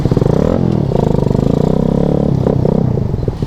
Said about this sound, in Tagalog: Yung palapit yung mga motor dito boy.